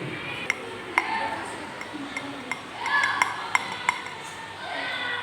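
Spoon stirring and clinking through a mixture in a container, close and repeated with sharp metallic taps at irregular intervals over a steady background hiss.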